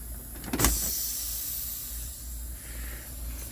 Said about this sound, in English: push in my trailer air supply valve, the red button